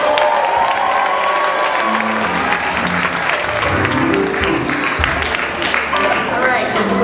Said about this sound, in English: How about a round of applause for all these kids?